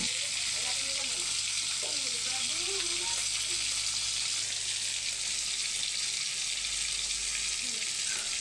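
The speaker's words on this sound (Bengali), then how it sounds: "শুরুতেই আমি 4টা মাছ ভাজি করলাম। এটা হচ্ছে তেলাপিয়া মাছ।" Four tilapia fish fry in hot oil, a loud, continuous close sizzle with steady hiss throughout and faint voices murmuring beneath.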